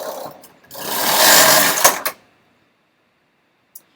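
A knitting machine carriage is pushed across a row, making a loud, steady mechanical whir and clatter for about a second and a half before stopping, followed by a couple of clicks and then quiet.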